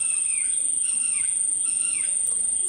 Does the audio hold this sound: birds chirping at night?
yes